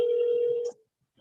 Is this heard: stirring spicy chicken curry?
no